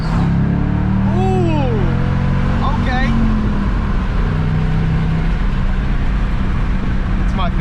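A 2006 Ford Mustang GT's 4.6 V8 with a five-speed manual drones loudly from inside the cabin while driving, its pitch sweeping with downshifts, under a continuous steady road roar.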